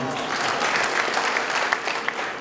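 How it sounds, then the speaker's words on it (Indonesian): An audience at an Indonesia Attractiveness Index award ceremony claps loudly for a professor, a dense, sustained round of applause with a few sharper individual claps standing out near the end. "jadi tepuk tangan ini buat Profesor ini"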